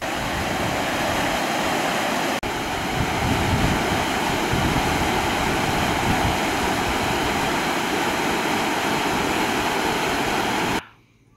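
Telugu Ganga canal water near Venkatagiri rushing after release for farm irrigation, a loud steady roar of flowing water with some wind buffeting on the microphone, continuous until it drops away at the very end.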